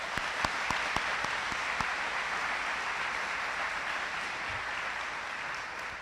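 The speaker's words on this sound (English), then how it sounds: "So how about a round of applause for Chen Jun?" Applause from a graduation ceremony audience, a steady wash of clapping from a large crowd heard at a distance, fairly even throughout with a few sharper individual claps near the start.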